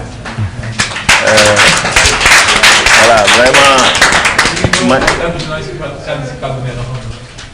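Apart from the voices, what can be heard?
audience applause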